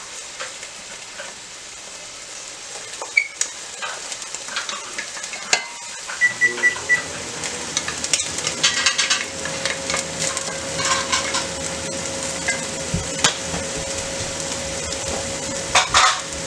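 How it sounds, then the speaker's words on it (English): Onion and garlic frying in a pan for a vegetable stew, a steady sizzle that swells once they go in, with repeated scraping and knocking stirs of a utensil, close and fairly loud. "I'm going to add the onion and garlic in the middle."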